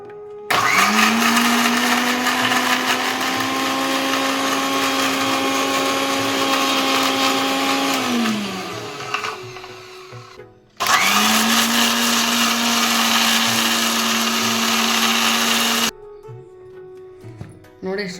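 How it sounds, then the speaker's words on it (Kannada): A kitchen mixer grinds coconut, green chilli, garlic, coriander leaves and tamarind with a little water, whirring loud and steady for about eight seconds, winding down, then running again in a second long burst before stopping. "ಸ್ವಲ್ಪ ನೀರು ಹಾಕ್ಕೊಂಡು ಗಟ್ಟಿಗೆ ರುಬ್ಕೊಳ್ಳೋಣ."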